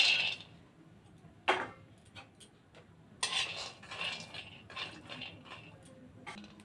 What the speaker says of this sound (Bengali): বাদামটা ভেজে নিচ্ছি